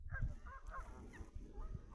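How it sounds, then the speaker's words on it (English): A large colony of geese by a river honks in repeated overlapping calls, heard at a moderate distance against quiet background noise, with no voices. "There's the big colony of geese down there."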